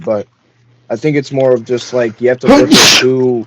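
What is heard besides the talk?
sneeze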